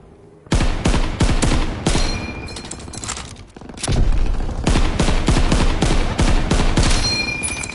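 Rapid bursts of M1 Garand rifle fire in Call of Duty: WWII, with loud overlapping shots across a battle scene, a brief lull, then sustained volleys of close and distant gunfire with no voices.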